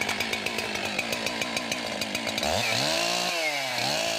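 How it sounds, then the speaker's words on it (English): A chainsaw on the ground, firmly supported with the chain brake on, sputters through rapid pulsing engine strokes, then revs into a loud, close whine that rises and falls in pitch, with no voices. "Make sure your saw is firmly supported with the chain brake on before you start it"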